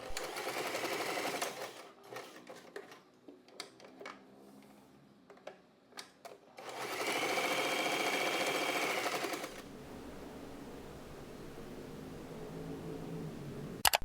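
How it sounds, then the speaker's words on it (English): A sewing machine stitches through thick padded fabric layers near a zipper on a half-oval pouch, with a short burst, a stretch of irregular clicks and pauses, then a longer steady run of fast stitching, followed by quieter background. "This extra padding will help you sew through those thicker layers with ease."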